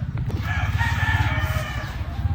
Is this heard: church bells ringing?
no